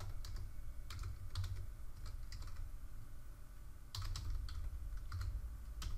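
Command being typed on a computer keyboard: quiet, close clusters of rapid clicking keystrokes in irregular bursts with short pauses, with no talking.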